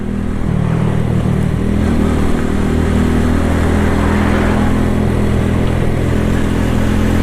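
Suzuki Address 125cc scooter riding on a road, a loud, steady engine drone with wind rush close to the rider, and no talking.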